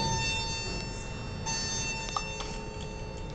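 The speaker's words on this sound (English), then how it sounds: "Hold on, I'm gonna sound the chime." A Montgomery hydraulic elevator chime sounds inside a Dillard's store at Treasure Coast Square. It is a faint, brief bell-like ding over a steady hum of mechanical and room noise.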